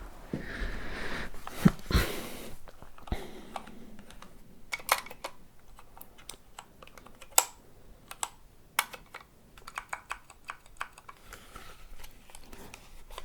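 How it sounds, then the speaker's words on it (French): Keys clack on an adjustable computer keyboard in irregular close-up bursts of typing, crisp individual strikes scattered across a quiet room with no talking. "Donc, mon clavier"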